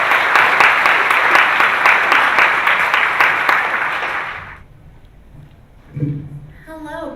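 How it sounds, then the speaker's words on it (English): An audience at a university graduate orientation applauds steadily for about four and a half seconds, dense and full, then the clapping dies away and a voice begins speaking. "please give them a round of applause"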